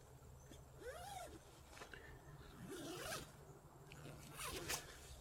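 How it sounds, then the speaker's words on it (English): A dual zipper on the mesh door of a Eureka Midori 2 tent being zipped in several quick, close rasping pulls, separated by short pauses, over a faint low hum. "Dual zipper for the mesh."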